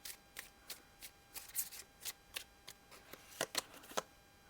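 Tarot cards are shuffled by hand, giving quiet, crisp riffling taps and flicks in an uneven quick rhythm, close up and alone.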